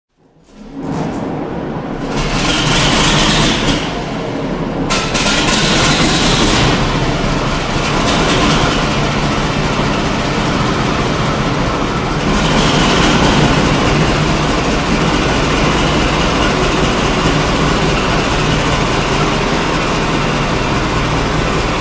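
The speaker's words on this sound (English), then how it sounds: "Class 52 Swindon built Western D1010 Western Campaigner." A Swindon-built Class 52 Western diesel-hydraulic locomotive, D1010 Western Campaigner, runs with a loud, steady low engine drone and heavy rumble, its pitch swelling briefly near the start, for a sustained stretch with no talking.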